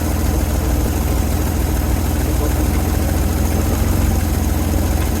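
The engine of a 1970 Chevrolet C-10 idles while warming up, a loud, steady low rumble that stays even throughout and is heard close up.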